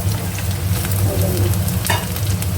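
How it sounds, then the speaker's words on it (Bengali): Bitter gourd and potatoes fry loudly in a pan, a dense, constant sizzle with occasional scraping stir strokes and no voices. "এবার আলু সহ উচ্ছে একটু ভাজা ভাজা করবো"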